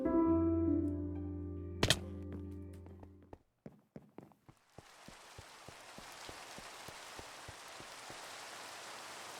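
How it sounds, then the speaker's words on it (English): Rain falls softly and steadily on a surface, with a few distinct drops tapping at first before a fuller patter sets in. "Looks like rain."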